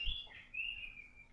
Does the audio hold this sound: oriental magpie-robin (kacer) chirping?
yes